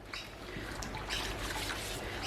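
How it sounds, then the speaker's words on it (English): Soapy water rinsed down a sink drain after soap making, heard as a faint, steady trickle and splash of running water with no talking. "And you just wash everything, rinse it down the drain."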